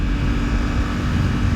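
A 2023 Suzuki GSX-8S parallel-twin motorcycle engine runs with a steady, loud, low droning note, close by and continuous without any talk.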